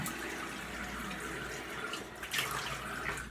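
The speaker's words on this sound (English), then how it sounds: "Rinse up real quick." A tap runs steadily while something is rinsed beneath it, a continuous close splashing wash of water with a brief louder surge near the end.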